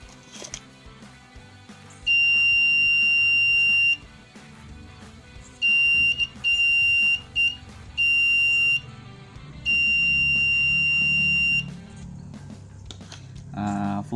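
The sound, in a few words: buzzer of a laser motion sensor circuit sounding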